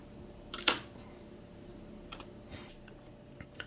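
A single sharp key press on a computer keyboard, one loud click followed by a few faint scattered taps in a quiet room.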